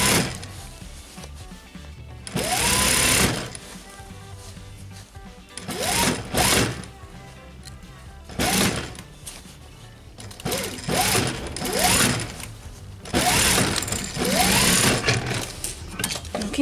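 A sewing machine runs in several separate bursts of rapid mechanical stitching while shortening the sleeves of a winter coat, with quiet gaps between the runs, heard close up.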